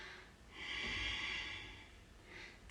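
Breathing held through a yoga pose in a seniors' yoga class: one long, airy exhale through the nose lasting over a second, followed by a fainter breath that starts near the end, close and audible with no talk over it.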